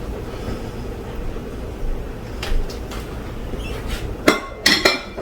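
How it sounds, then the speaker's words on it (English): A spatula moves vanilla wafers through banana pudding in a dish, giving soft scraping under a low background hum, followed by a few sharper clinks against the dish near the end. "I'm going to take my spatula and I'm going to kind of move those wafers around so we can get that pudding all the way through"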